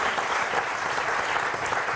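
A television studio audience gives a full, steady burst of applause for Paralympic bronze medalists, continuous dense clapping throughout.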